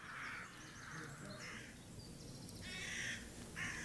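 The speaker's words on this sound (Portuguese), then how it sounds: "Laurence continuou a criar e observar as gralhas" Jackdaws give harsh, repeated caws in quick bursts, several birds calling over one another close by against steady outdoor background noise.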